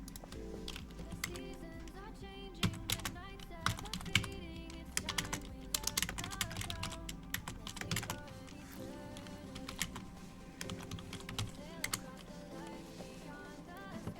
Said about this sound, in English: A beautiful keyboard sound.